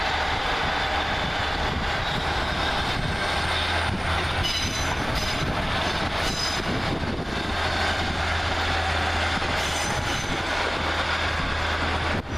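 Locomotive 14561 pulls away with a Northern Rail service bound for Barrow-in-Furness via Whitehaven at Carlisle station, a loud continuous rumble of engine and rolling wheels with high wheel squeals and a steady low drone, no voices.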